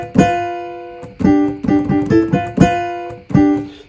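Electric guitar run through a harmonizer pedal, playing a lick in parallel fourths in the style of a well-known song: about seven plucked, sustained two-note chords in an uneven rhythm, close and clear, with no voices.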